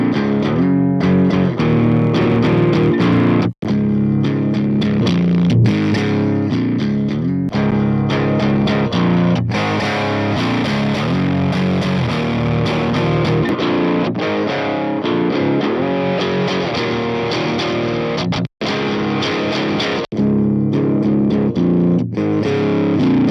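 Electric guitar played through the Cyberdrive plugin amp with the gain cranked, producing a dense, saturated, high gain distortion. Chords and riffs run loud and continuous, with a couple of abrupt cuts.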